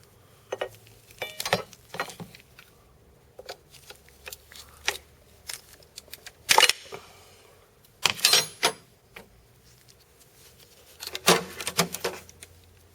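Torx T30 bolts are taken off the coil packs of a Mercedes S500/S430 W220 M113 V8 with a 3/8 ratchet, giving scattered close metallic clicks, ratchet rasps and tool clatter in quiet surroundings.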